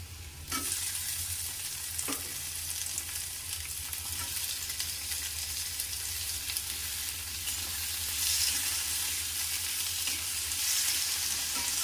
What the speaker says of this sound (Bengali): এরপর আমি টমেটোগুলো এর মধ্যে দিয়ে দিচ্ছি